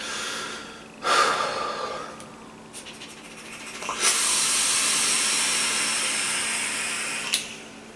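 A vaper takes a draw, then exhales a big cloud of vapour, heard as a close, steady breathy hiss that swells and holds for several seconds after a shorter inhale.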